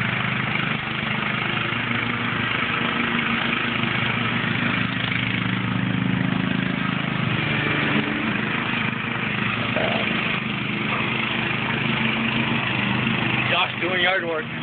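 A riding lawn mower engine runs steadily at a constant idle-like drone throughout, fairly close, with no clear pauses.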